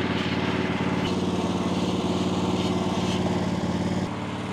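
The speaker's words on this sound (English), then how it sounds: "This is the flail mower's first visit to Store Hub." Flail mower cutting an overgrown lawn in wet weather, a loud, steady engine drone with a whirring blade-rotor hum that runs continuously near the mic, dropping slightly in level at the very end.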